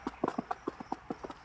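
Horse hooves in a 1960 radio comedy routine, a quick, light clip-clop of about a dozen evenly paced hits, fairly faint and heard alone.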